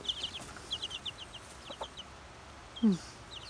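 Small chicks with little black beaks give a run of high, thin peeps in quick clusters, fairly close, with one louder low chirp or squawk near the end and no talking.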